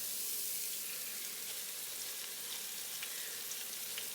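Pancake batter from a boxed mix frying in a pan, a steady close sizzle with a faint scrape of a spatula used to flip it, no talking.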